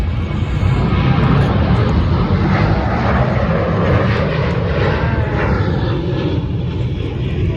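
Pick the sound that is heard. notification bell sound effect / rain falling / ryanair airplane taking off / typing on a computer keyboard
ryanair airplane taking off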